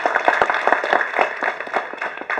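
Audience applause at a Tamil film audio launch event, a dense wash of many hands clapping steadily and fairly loud for a couple of seconds, with no speech over it.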